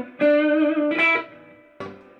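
Electric guitar played through a Vexx Audio Bluebear overdrive pedal, three sustained overdriven chords ringing out one after another, the last one fading while the others decay cleanly, loud and alone with no talking.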